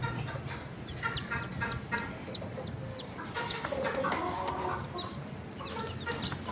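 An Asil rooster gives short repeated clucks close by, in quick soft bursts over faint outdoor background noise.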